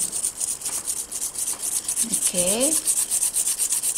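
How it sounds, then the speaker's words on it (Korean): A 180-grit file buffs a fingernail surface during gel nail art work, making rapid, regular back-and-forth rasping strokes, with a brief spoken word in the middle. "한번더 갈아줘서 표면을 조금 매끄럽게 만들어 볼게요. 저희 180 그릿 다이아미 하일로 이용해서"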